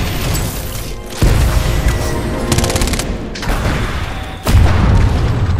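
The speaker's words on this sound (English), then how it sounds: "Cluster missile!" Cluster missile explosions in Titanfall 2 multiplayer: loud, dense booms and rapid crackling blasts come in waves, with sharp heavy impacts and a continuous roar of gunfire around them.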